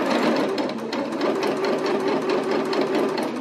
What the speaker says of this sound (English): And we'll keep stitching.